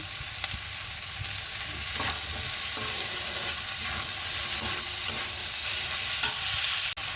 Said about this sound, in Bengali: আলুর সাথে পেঁয়াজ এগুলোর সাথে খুব ভালোভাবে ভেজে নেব